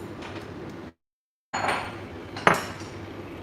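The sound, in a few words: washing pots and dishes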